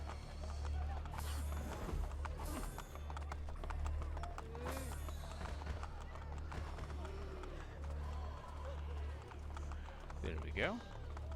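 Steady clip-clopping hooves of a horse trotting along in Assassin's Creed Brotherhood, sitting under a busy game backdrop with some talk mixed in.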